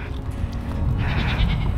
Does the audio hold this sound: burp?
no